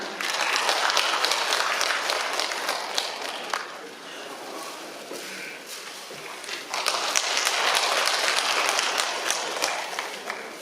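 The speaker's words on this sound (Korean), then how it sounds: "여러분 뜨거운 박수로 환영해 주시기 바랍니다." Audience applause at a Korean Parents' Day ceremony in Pocheon, a dense crowd clapping that swells, eases briefly mid-clip, then rises again, loud and sustained throughout with no talk over it.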